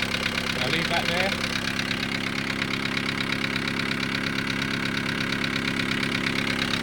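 A Morris Minor car engine idles steadily with an even, throbbing hum, and a person speaks briefly over it near the start.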